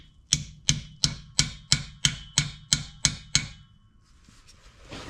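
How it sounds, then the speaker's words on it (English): A hammer taps a part into place on a Land Rover Discovery 3, about ten sharp, evenly spaced metallic strikes close up, then quiet. "let me get my hammer and we'll tap that in so it actually goes in"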